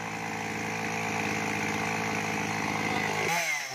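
A chainsaw runs steadily at high revs, loud and close, cutting into a large golden wattle tree over thirty years old. It cuts out abruptly near the end.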